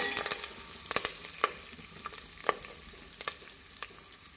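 Curry leaves frying in hot oil for vangibath, with a steady bright sizzle and scattered light spatula taps and scrapes as they are mixed through.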